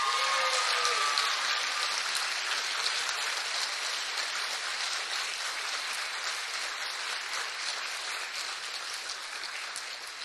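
Crowd applause for the Junior Miss Strassenfest 2014 pageant winner, a dense, steady wash of clapping that starts loud and eases off slightly over ten seconds, with a brief voice at the very start.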